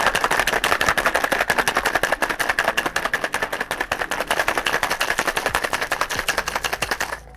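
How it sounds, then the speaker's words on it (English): A lidded cocktail container holding a coffee cocktail is shaken hard with ice, making fast, rhythmic rattling that stays loud and steady for about seven seconds and then stops abruptly. "clip the lid on, give it a shake"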